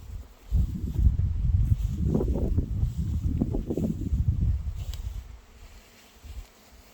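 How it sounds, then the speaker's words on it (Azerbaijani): A low, steady buzzing of bees hovers close by for several seconds, with a faint rustle in the background before it thins out near the end. "Arının səsinə bax."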